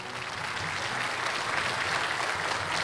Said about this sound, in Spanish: por lo que hoy pido a todos los presentes un fuerte aplauso para ellos